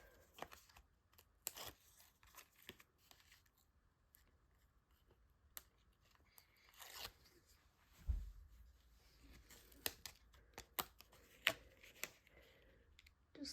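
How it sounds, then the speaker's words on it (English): Non-stick micro tip scissors snip through foam tape for a handmade card, giving faint, sparse little clicks and cuts scattered over a quiet background, close by with no talk. "these non-stick micro tip scissors are great for cutting things like the foam tape."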